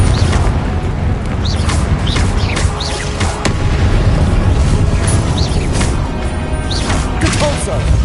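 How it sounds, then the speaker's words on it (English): Repeated Confringo explosions rattle through a Hogwarts Legacy fight, a steady run of sharp cracks, thuds and booms spread over several seconds atop heavy combat din, with speech woven in. "Levioso! Confringo!"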